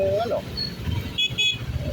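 Two short vehicle horn toots sound in the middle of busy traffic noise during a motorcycle ride, with a voice talking nearby.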